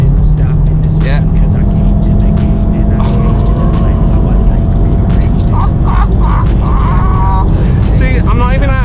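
A VW Mk7.5 Golf R engine pulls steadily in fifth gear, a loud continuous drone and road rumble heard from inside the car, with someone talking over it.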